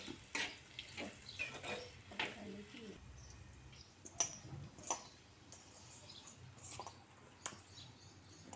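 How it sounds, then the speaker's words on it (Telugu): Curry leaves and onions fry in hot oil for Andhra-style fish curry, a close, faint crackling sizzle broken by sharp stirring clicks and scrapes at an uneven pace. "ఆయిల్ వేడైన తర్వాత కరివేపాకు, ఆనియన్స్ వేసి కొద్దిగా వేగనివ్వాలి."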